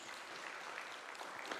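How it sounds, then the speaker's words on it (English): An audience at a World Skills South Africa day-one session gives a steady round of applause, with dense, even clapping that holds at a moderate level throughout. "Please give yourselves a round of applause for being such a great audience"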